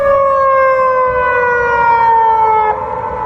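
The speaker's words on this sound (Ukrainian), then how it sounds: "Сирени чи то повітряної, чи то водної тривоги лунають тепер також і у місті Орінбург." Air raid or flood warning sirens in Orenburg wail with a loud, sustained tone that slowly slides downward before dipping near the end, with no voices.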